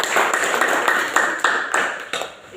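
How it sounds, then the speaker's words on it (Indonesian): A classroom group claps in a short burst of applause, close and fairly loud, with quick, uneven claps that fade toward the end. "Kita berikan aplaus dulu"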